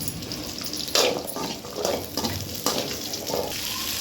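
Small shallots frying in oil in a pan for a garlic curry, a steady close sizzle broken by several stirring scrapes at uneven intervals.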